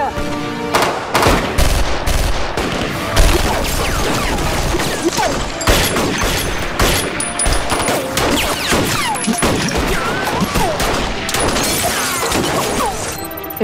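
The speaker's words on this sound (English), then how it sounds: "We're taking fire, half a dozen guards at the entrance." Sustained gunfire during an armed assault on guards at a compound entrance: dense rapid bursts and shots overlapping with crashes and shattering impacts, loud and continuous for the whole stretch.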